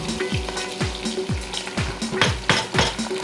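Washed chinigura rice frying with softened onions in a pot for beef bhuna khichuri, a loud close sizzle broken by regular stirring scrapes and knocks of a spoon, several strokes per second with no talking.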